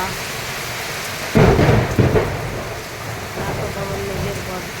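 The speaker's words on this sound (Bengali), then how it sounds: "শিম গাছের ফাঁক দিয়ে বৃষ্টি পড়ছে" A heavy spring rainstorm pours through bean vines and garden trees, with steady loud rainfall and two close thunder cracks rumbling in quick succession before the downpour continues alone.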